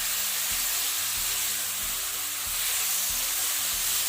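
Okra and potatoes sizzling in a pan for dhaba-style aloo bhindi sabzi, a constant dense frying hiss with faint low rhythmic knocks repeating about every half second underneath; no talking.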